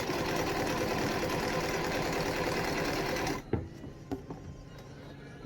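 A sewing machine runs steadily while stitching quilt top pieces made from yard sale finds, a close, fast, even whirr that stops abruptly partway through, followed by a few quiet handling clicks and bumps.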